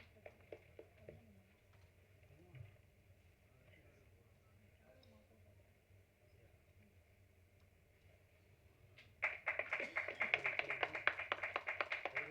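An audience at a film audio launch event claps when the applause begins about three-quarters of the way through. It swells into loud, dense applause after a quieter stretch with a few stray claps and murmuring in the hall.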